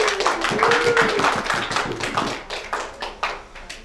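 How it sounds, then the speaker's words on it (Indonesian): A student audience claps for a debate team, a burst of fairly close, rhythmic hand claps that loses energy and breaks into a few separate, sparser claps toward the end. "Beri tepuk tangan untuk tim kita"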